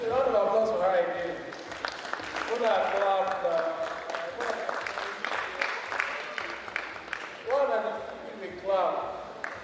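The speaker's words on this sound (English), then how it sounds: "A round of applause for her again." An audience at a bank digital training session claps through overlapping talk, scattered hand claps mixed with several voices speaking loudly and close.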